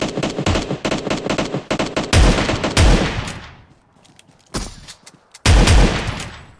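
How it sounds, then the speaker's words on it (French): Gunfire in PUBG's zombie mode: rapid bursts of automatic fire, loud and sustained, then a short lull and more heavy bursts. "On était deux squads à tirer dessus"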